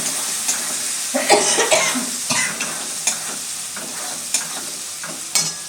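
Duck curry with tomato and spices sizzling in a pan over steady frying hiss, with scraping stirs and clinks of a utensil against the pan recurring close by, no voices.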